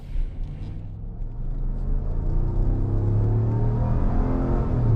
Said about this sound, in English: What else is nice is the V8 power. We now unleash it with a little bit of wheel spin there.